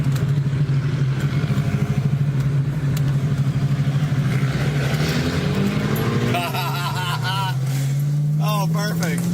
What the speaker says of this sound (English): You hear it backfire? Oh yeah, big time. It's got the tune. What is it, a Beamer? Yeah, BMW with the burble tune.